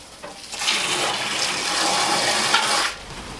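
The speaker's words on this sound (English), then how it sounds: "Fill up Luna's water." Water runs steadily from a tap into a dog's water bowl for about two seconds, a close, moderately loud splashing rush that stops abruptly, with no talking over it.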